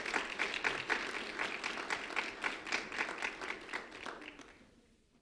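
A crowd claps for a high school senior who sang the national anthem, a moderate round of applause with audible individual claps that holds steady and then fades out toward the end.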